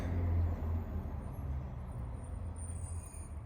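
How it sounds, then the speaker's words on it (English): A passing bus rumbles steadily with low engine drone and road noise, fairly close and loud, holding for a few seconds before easing slightly. "a bus just drove by"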